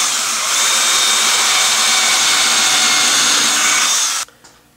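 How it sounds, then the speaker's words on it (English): A cordless drill whirs loudly and steadily for about four seconds as it bores a pilot hole into wood, then stops abruptly, close to the listener. "drill a pilot hole for the screw"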